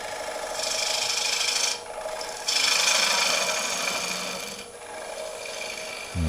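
A wood turning tool cuts a wooden table lamp spinning on a lathe, bevel rubbing in long steady scraping passes with short pauses between, close and fairly loud.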